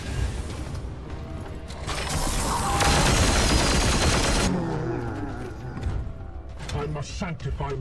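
Sustained gunfire in the Warhammer 40k: Chaos Gate - Daemonhunters video game, a dense mechanical burst of rapid shots building to a loud roar, then fading into rattling mechanisms and game sounds, with voices speaking over it.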